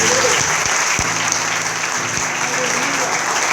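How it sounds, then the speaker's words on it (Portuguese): A church congregation claps together in sustained, even applause, with a voice speaking over the clapping. "Quem está entendendo isso, aplauda o nome de Jesus."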